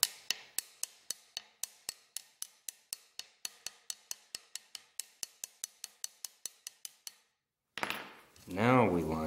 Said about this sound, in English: first, we want to propagate some cracks through it